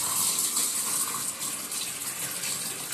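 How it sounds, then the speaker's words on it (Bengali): Hot water poured off freshly boiled eggs and cold water run in, a steady loud gushing splash of liquid throughout, close and continuous with no talk. "ডিমটা কিন্তু গরম জলটা একটু ফেলে দেবো, দিয়ে একটু ঠান্ডা জলের মধ্যে রাখবো"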